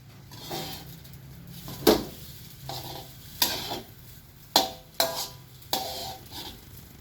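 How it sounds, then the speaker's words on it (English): Fried rice is stirred in a sizzling pan with pepper added, and a spatula scrapes and knocks against the metal in sharp separate strokes about once a second over a faint low sizzle. "And we stir it again."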